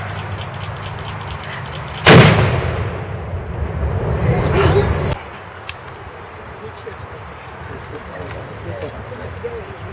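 Muskets fire a single loud volley at an Independence Day tribute ceremony for Benjamin Tallmadge; the crack rings out and echoes for about three seconds before fading. Voices are heard around it.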